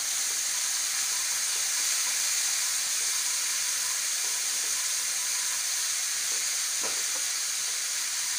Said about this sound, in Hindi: और इसे भी हम 1 मिनट भून लेंगे अच्छे से।